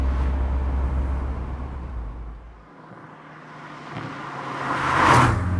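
A Mazda MX-5 NC fitted with the BBR Super 200 upgrade accelerates hard, its engine note fading from a low steady drone then swelling louder toward the end, with no voices.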